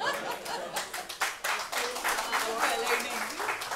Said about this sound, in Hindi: एक ताली बजिए